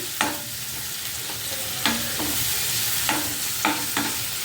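Two small bunches of fenugreek leaves frying in a pan for a bottle gourd and fenugreek curry: a continuous sizzle is broken by five or six sharp scraping clinks of a stirring utensil against the pan.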